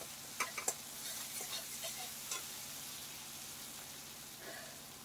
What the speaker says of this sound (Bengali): এইবার বন্ধুরা মশলাটা এইভাবে আমি ভাজতে থাকবো